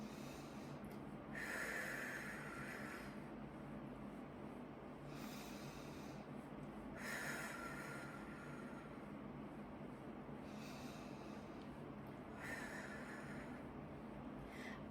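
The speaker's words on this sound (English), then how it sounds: "I'm going to do 3 mindful breaths." Slow, deep breaths taken in a quiet room, three drawn-out airy inhales and exhales spaced several seconds apart, soft and close over a low steady background hum.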